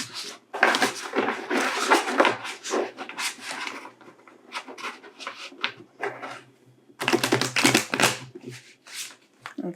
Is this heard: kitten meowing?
no